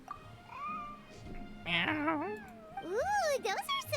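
A cat meows in the Genshin Impact video game. Several drawn-out, wavering meows rise and fall, growing louder and more insistent toward the end, and no human voices are heard.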